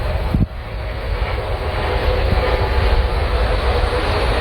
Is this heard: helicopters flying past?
yes